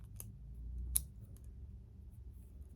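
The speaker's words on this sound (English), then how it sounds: "another classic design for scissors" Small folding scissors on a multi-tool being opened and handled, giving a couple of faint crisp metallic clicks over a quiet background.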